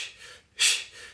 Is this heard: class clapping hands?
no